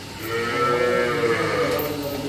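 A cow on a dairy farm lets out a single drawn-out moo, fairly close and steady, over faint farmyard background noise.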